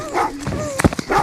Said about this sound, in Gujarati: આ કૂતરું તો આપણું સામું દોડ્યું આવે છે